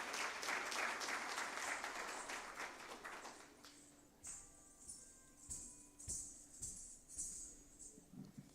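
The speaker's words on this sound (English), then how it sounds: "Can we have another huge round of applause for Mrs. Manjula, please?" Audience applause rising after a devotional cultural performance at a memorial oration event, loud and sustained at first, then thinning into scattered claps and fading.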